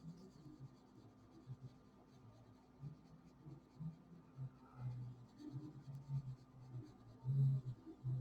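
Soft, steady scratching of a coloring pencil blending lime peel color on paper, faint and close, with light strokes swelling in rhythm and no talk.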